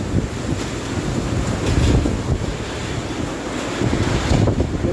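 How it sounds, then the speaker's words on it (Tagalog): Super Typhoon Goni's strong wind batters Naga City, a loud, constant roar with heavy gusting buffets against the microphone and no voices. "Malakas yung hangin."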